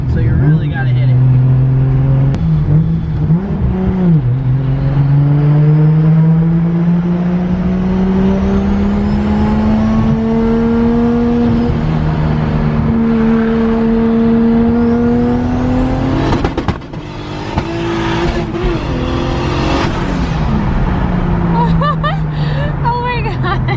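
Turbocharged Toyota Supra accelerating hard through high RPM in a car vlog, its engine note rising steadily in loud sustained harmonics, with a brief shift break near the end and people talking over the roar.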